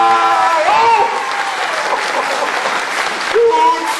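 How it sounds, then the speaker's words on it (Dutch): Schoolchildren clap for a magician at a last-day-of-school gathering, a loud, sustained roll of applause from a crowd, with excited voices and shouts over it throughout. "Ik tel tot drie en dan klappen we voor hem in de handen."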